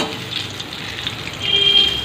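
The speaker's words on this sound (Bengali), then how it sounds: "আর এদিকে বেগুন ভাজা হচ্ছে" Eggplant slices frying in a pan at home, a steady low sizzle with soft crackle that swells a little louder toward the end, no voices.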